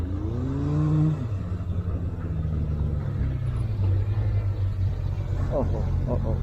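A Benelli TRK 502 adventure motorcycle rides off-road in second gear, its engine a steady low drone with small shifts in pitch, under a rider's talk.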